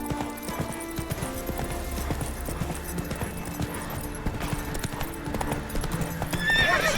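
A horse in The Witcher 3 gallops with quick, rhythmic hoofbeats throughout, then gives a loud whinny near the end, close and clear with game ambience behind.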